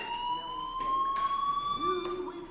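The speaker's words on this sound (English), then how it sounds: "do you hear that fire alarm?" A fire alarm ringing in the video game Life is Strange, a sustained electronic tone that rises slowly in pitch, with a lower tone entering late, heard at moderate volume over faint background noise.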